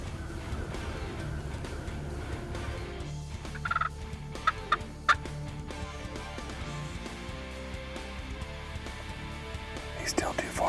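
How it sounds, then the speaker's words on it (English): Wild turkeys gobble during a Mississippi turkey hunt, a few short gobbles ringing out at a distance over outdoor ambience while hunters whisper nearby. "Now the birds come out, we're gonna see which way they go."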